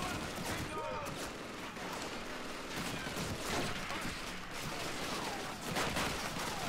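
Dense bursts of gunfire from Call of Duty 2 keep going for the whole stretch: overlapping rifle and machine-gun volleys with sharp cracks close by, and a steady battle din underneath.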